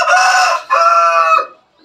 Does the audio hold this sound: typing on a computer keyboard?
no